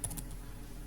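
Computer keyboard typing during spreadsheet formula entry, a few quick key clicks at the start followed by faint, steady room noise with no talking.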